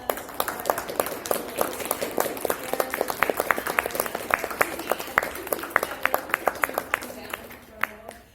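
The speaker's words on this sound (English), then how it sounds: "can I get a round of applause" Applause breaks out from an audience at a safe-streets event in North York Central Library, many hands clapping close by in a lively patter that thins out toward the end.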